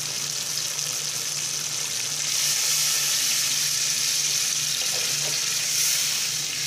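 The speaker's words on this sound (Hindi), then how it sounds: "पानी ऐड करने लगे हैं" Water pours into a pot of half-cooked potatoes for aloo tahari, making a loud, continuous splashing rush that swells slightly partway through, with no speech.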